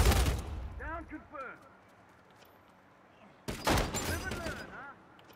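Copperhead rifle bursts from Uncharted 4 multiplayer, a dense rapid volley at the start and another loud burst later, with a voice talking between and over the shots.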